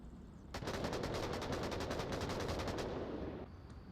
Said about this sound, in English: Lots of gunfire.